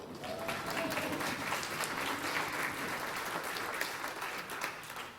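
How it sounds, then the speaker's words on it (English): Steady applause from an audience fills the whole stretch, dense clapping at an even level with no voices standing out. "So, clap for that."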